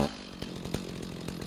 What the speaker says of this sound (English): Give me that chainsaw.